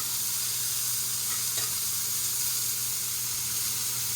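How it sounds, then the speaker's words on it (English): Sauté bowl ingredients sizzling in hot oil as they get a quick stir, a dense, even, close frying hiss throughout with one faint scrape, no voices. "I'm gonna give that one little stir just to get everything coated in the oil"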